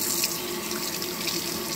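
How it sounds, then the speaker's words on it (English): Hands are scrubbed with hand wash under a running tap at a kitchen sink, with a steady, close, hissing rush of water that runs unbroken throughout. "So we just give the hands a very good scrubbing, going all under those nails"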